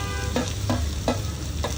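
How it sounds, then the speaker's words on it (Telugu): Onions frying in oil in a kadai for a paneer curry, a steady sizzle broken by a few soft stirring scrapes at regular intervals, close and alone with no talk. "అవి కొంచెం వేగిన తర్వాత ఆనియన్స్ యాడ్ చేసుకోవాలి."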